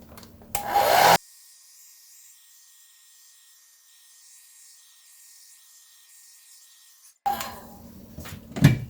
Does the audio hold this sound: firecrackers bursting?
no